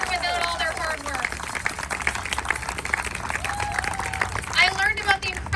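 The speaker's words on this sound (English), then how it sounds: "can we give them a round of applause?" An audience applauds at a rally at Queen's Park for keeping the subway on Yonge, a dense wash of clapping and crowd noise mixed with cheering and a speaker's voice.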